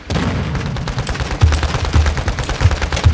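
Rapid automatic gunfire in Call of Duty: Modern Warfare 2 on Ashika Island, loud, close bursts of shots punctuated by heavier booming reports, with no talk over it.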